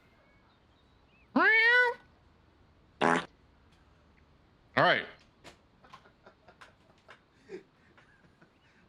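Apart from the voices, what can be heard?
cat meowing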